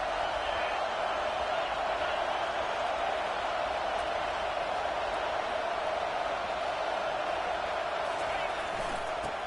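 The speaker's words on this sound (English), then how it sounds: "Third down, and this crowd will blow out a vocal cord to help this defense." Steady roar of a packed college football stadium crowd on third down in NCAA 25, a sustained loud wash of noise with a commentator talking over it.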